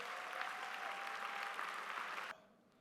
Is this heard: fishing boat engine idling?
no